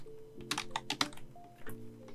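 Typing on a computer keyboard produces a quick, uneven run of soft, close clicks and taps over a few seconds in a quiet room, with no talking.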